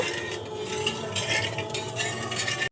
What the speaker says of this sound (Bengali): আর এখানে আমি নিয়েছি দুটো ফাটানো এলাচ দিয়ে দেব নাড়াচাড়া করে একটা পাতলা শিরা তৈরি করে নেব